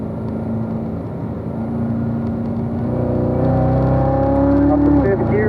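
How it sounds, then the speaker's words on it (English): Race car engine on track climbing up through the gears into fourth, a steady loud whirring rise in revs that builds and then drops at the shift, with a voice talking over it. "Jeff, we're going back up to fourth gear."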